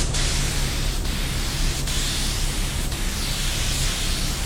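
Spray gun fed by a small air compressor at 150 psi laying down a coat of paint, a continuous close, loud hissing spray with slight pulses, alone.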